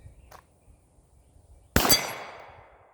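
A single sharp, loud shot from a Glock 34 pistol at competition shooting practice, cracking suddenly after quiet and ringing out in a short decaying tail, with no talk.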